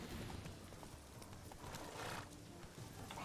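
Steady clip-clop of galloping horse hooves with an occasional whinny, a faint, noisy soundscape from The Witcher 3: Wild Hunt with no talking.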